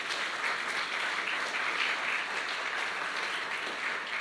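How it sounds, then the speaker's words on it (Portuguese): A church congregation applauds, a steady even wash of clapping from many hands, moderately distant and unbroken, with no voices standing out. "Aplauda a palavra do Senhor."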